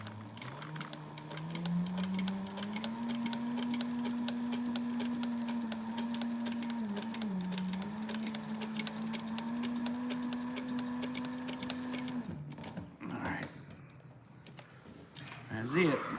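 Leather stitching on a custom cowboy boot, worked around the vamp: a steady mechanical whir with a rising tone runs for about twelve seconds, then stops and gives way to faint handling noises and brief talk.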